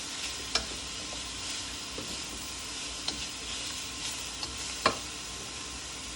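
Chicken chow mein cooking in a pan, a steady dense sizzle and hiss with occasional sharp pops and clacks of stirring, close and loud with no talking.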